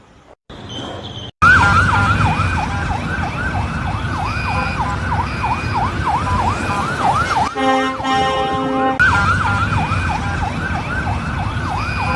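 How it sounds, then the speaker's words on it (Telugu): Loud warning sirens wail through an Israeli city during Iranian missile strikes, sweeping rapidly up and down in a continuous cycle that pauses briefly before resuming. No voices are heard. "అనేక చోట్ల ఎయిర్ రైడ్ సైరన్లు మోగినట్లు ఇజ్రాయెల్ మిలిటరీ ప్రకటించింది."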